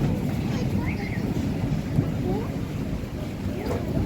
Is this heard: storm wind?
yes